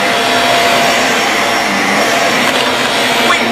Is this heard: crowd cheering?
no